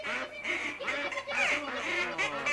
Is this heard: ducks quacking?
yes